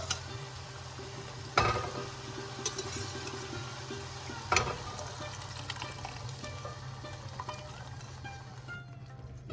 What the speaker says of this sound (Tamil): இப்போது வேக வச்ச காய்கறியை இதோடு சேர்த்துடலாம்